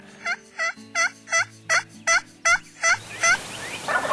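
A wild turkey gobbles nine times in quick, evenly spaced bursts, each a rattling warble, fairly close, followed by a brief rustling noise, during a Kentucky turkey hunt.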